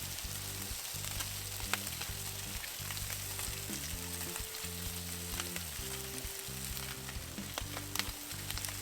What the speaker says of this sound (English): Listen to that sizzle.